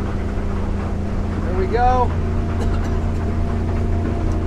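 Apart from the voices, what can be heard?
Edge Marine boat with Yamaha 250 outboard accelerating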